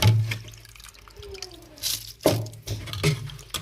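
Rice is rinsed in water, with short sloshes, drips and splashes coming in a few uneven bursts, close and fairly soft, with quiet gaps between them.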